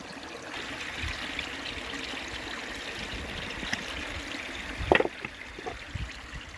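Creek water runs steadily in a continuous trickling flow, with a brief louder splash or knock near the end.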